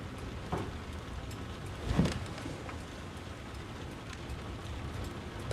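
Heavy rain pours outside at night, a steady, dense broadband hiss of rainfall that fills the scene throughout, with one brief louder thump partway through.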